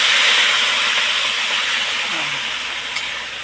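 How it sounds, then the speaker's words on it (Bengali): Water poured into a pan of frying rice for pulao sets off a loud, steady steam hiss and sizzle that slowly fades over a few seconds, with no talking. "এখন আমি দিয়ে দেবো জল।"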